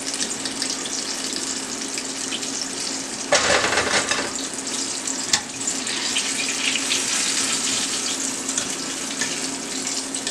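Chicken wings for lemon pepper wings fry steadily in hot grease, giving a continuous loud sizzle that swells briefly as more pieces are dropped in, with a short clatter partway through and no talking.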